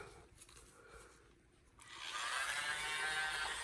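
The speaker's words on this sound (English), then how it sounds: "Now I want my little blower." A small electric blower aimed at a paint pour switches on partway through, a soft rushing hiss that grows louder and holds steady after a quiet start.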